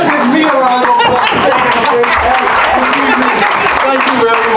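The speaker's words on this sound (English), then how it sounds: "Let's give me a round of applause." Audience applause at a poetry meeting, a steady wash of clapping from a roomful of people that fills the whole stretch at close range, with voices mixed in underneath.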